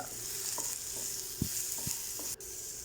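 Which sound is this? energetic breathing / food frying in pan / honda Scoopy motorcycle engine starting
food frying in pan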